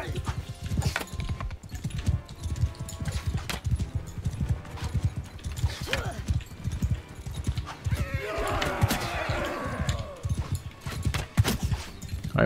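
Horse hooves clip-clop in a steady galloping rhythm during a cavalry charge in Mount & Blade II: Bannerlord, with a horse whinny partway through and someone talking over the hoofbeats.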